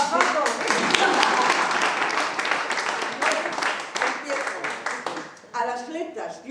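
Dense applause from an audience at a tribute event, loud, continuous clapping near and full, thinning slightly toward the end as a voice begins over the last moments.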